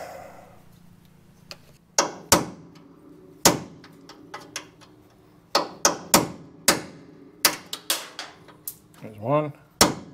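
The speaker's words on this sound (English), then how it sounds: "let's pop the rivets out" Rivets being knocked out of a 1957 Chevrolet Bel Air frame during a restomod: a series of sharp, loud metallic hits and pops in uneven clusters, one close after another, with a quiet pause before the first strike.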